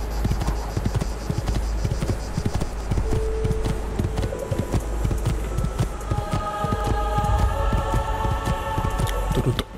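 Galloping horse hooves in Assassin's Creed II pound in a steady, rapid clip-clop close up, running continuously under a low hum of game music.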